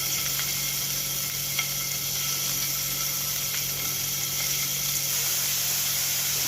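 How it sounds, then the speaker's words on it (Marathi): Paneer coated in turmeric and chilli powder frying in hot oil in a pan, giving off a continuous, fairly loud sizzle with faint occasional clicks, and no talking. "हे छान असं फ्राय होतं।"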